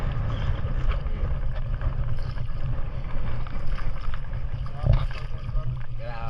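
Fishing boat underway on open water, its low steady engine drone mixed with wind buffeting the microphone and water rushing past the hull, continuous and fairly loud, with a brief knock near the end.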